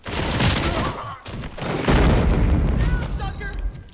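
Gunfire in the video game RoboCop: Rogue City, dense bursts of rapid shots and booming impacts, loud and close, with voices speaking over the shooting.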